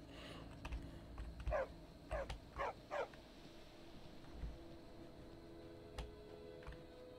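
A dog in the video game Skyrim gives four quick, soft barks in a row, fairly faint against a low, quiet game background hum, with a few small clicks afterward.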